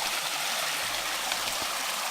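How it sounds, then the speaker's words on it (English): A mountain stream on Gooch Mountain along the Appalachian Trail rushes steadily, a close, continuous broadband wash of flowing water with no voices. "When you're northbound, coming up the Gooch Mountain, you cross the stream where it's got all the steps"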